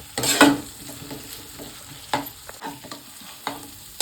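Masala being stirred in a pan, with a sharp scraping rush at the start and then softer sizzling between a few distinct scrapes and knocks of the spoon, close up with no talk.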